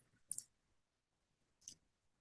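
Two crisp, sharp clicks of a computer mouse, spaced about a second apart, close and quiet against near silence.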